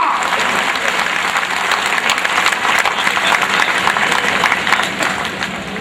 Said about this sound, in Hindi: जोरदार तालियों से इस्तकबाल कीजिए देश के नौजवान साथी का